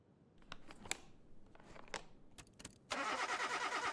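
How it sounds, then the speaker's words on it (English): A car engine cranking over in Car Mechanic Simulator 2021: a series of clicking, sputtering starter attempts, then the engine catches and settles into a loud, steady running rumble. "we've got the car started"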